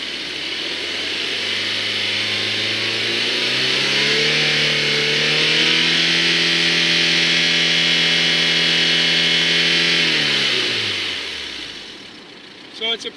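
The engine of a 2000 Honda S2000 rises steadily from idle up to about 5,000 RPM, holds there loud and close for several seconds, then drops back, with no other sound on top.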